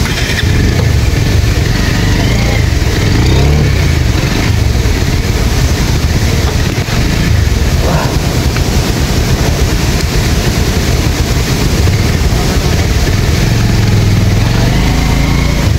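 A motorcycle engine runs steadily, loud and close, as a continuous rumbling drone with no talking over it.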